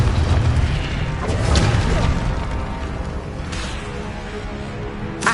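Confringo blasting-spell explosions in a Harry Potter video game, a dense run of booming bursts and crackling impacts, loud and close, fading into a rumbling tail.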